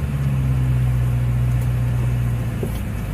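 A supercharged BMW E92 M3 fitted with an ESS G1 kit drives with a steady, loud, low engine drone and a constant hum, close by and uninterrupted, with no talking.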